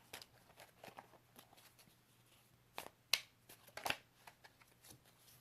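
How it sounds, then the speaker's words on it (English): Tarot cards drawn from a deck, a scattered series of faint, quick flicks and taps with small snaps of card against card, close and quiet with long gaps between. "Let's get a few cards out."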